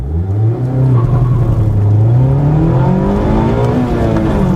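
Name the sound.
Mazda MX-5 Homura engine revving during launch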